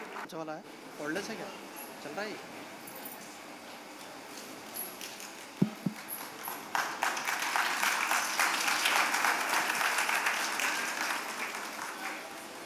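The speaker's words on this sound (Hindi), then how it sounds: "आप जोरदार तालियों से उन बच्चों का हौसला बढ़ाइए" An audience at a school stage play claps for the children about to perform. After a stretch of talking and a couple of sharp knocks, the applause builds to loud, dense, sustained clapping that continues to the end.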